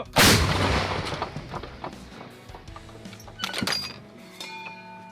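A single heavy blast from an M119 artillery gun booms up close, followed by metallic clanks and clinks of shell casings and equipment.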